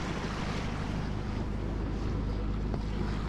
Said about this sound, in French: Là il y a le moteur qui est allumé.